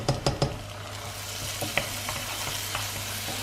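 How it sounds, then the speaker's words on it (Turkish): Bulgur is stirred in a hot frying pan, a steady sizzle throughout with a few sharp scrapes and clinks of the utensil against the pan at the start and sparse ones afterward. "Böyle karıştırıyorum iyice."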